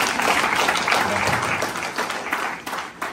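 An audience at the closing ceremony of an international NLP and professional coaching fair in Ouagadougou breaks into sustained, dense applause. The clapping swells and then gradually thins out.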